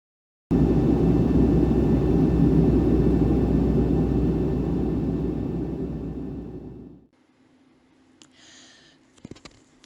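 A loud, steady, broadband engine rumble fills an airplane cabin, then fades away to near silence, followed by a few faint clicks and a brief tonal sound at the end.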